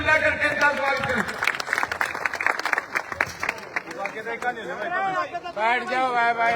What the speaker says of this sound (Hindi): जोरदार ताली मिला करके इनका स्वागत करें।